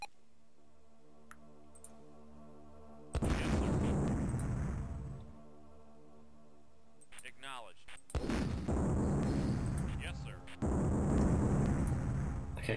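Explosions in Dune II on the Amiga, several heavy booming bursts with long rumbling decays separated by quieter stretches of game ambience, loud and close.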